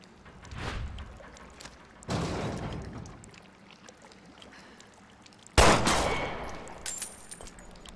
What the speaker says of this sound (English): Let me try shooting it down.